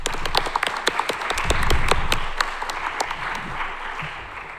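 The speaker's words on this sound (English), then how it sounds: "A quick round of applause for Rayan." Workshop audience at a computer science conference gives a quick round of applause, dense clapping from many hands swelling briefly then tapering, fairly close and loud with no talking over it.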